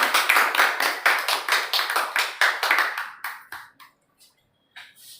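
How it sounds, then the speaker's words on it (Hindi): Rhythmic clapping welcomes a guest at a farewell ceremony, loud and close. It starts as a fairly regular pulse, then thins to scattered claps and quiet before a final brief burst. "पहले तो इनके लिए जोरदार तालियों से स्वागत"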